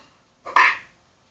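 A single short dog bark from the video game Hero Zero, close and fairly loud against near silence.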